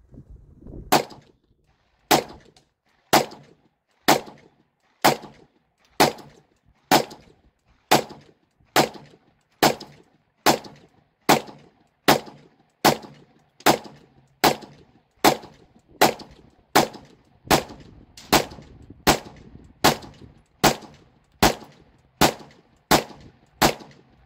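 A Smith & Wesson M&P 22 Magnum handgun fires a long, evenly spaced string of sharp, loud shots, about one per second, each crack followed by a short decay, with no talking.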